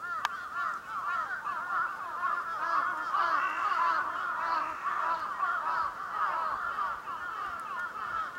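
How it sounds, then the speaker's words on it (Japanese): A large flock of crows calls overhead: dense, overlapping harsh caws and honking cries, fairly loud and continuous, with no pause throughout. "うわー、すごいカラスさんだった。"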